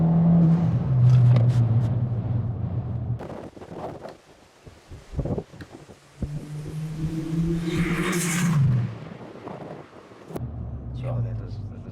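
A tuned Stage 3 Ford Fiesta ST pulls hard in second gear, its engine note rising and falling in strong surges with wind buffeting the microphone; people talk over it.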